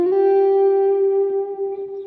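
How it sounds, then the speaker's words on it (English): A sustained guitar note rings out through a Quad Cortex running hall and modulated reverb together, a smooth shimmering wash that gently wavers and fades, with no talking. "now you can run both a hall reverb and a modulated reverb at the same time"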